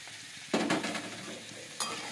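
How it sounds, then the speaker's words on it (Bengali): Vegetables and beans stirred and fried in a pan over low heat, two close scraping stirs over a soft steady sizzle. "এবার সবজিগুলো অ্যাড করে নিয়ে আমি জাস্ট হালকা 5 মিনিট থেকে 10 মিনিট ভেজে নেব হালকা আঁচে"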